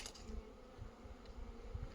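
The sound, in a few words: honeybees flying around hives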